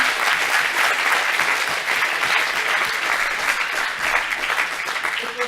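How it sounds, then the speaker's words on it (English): An audience at a defence hackathon in Lithuania claps after the final pitches, with dense, sustained applause from a roomful of people throughout. "reward yourself with applause and everything"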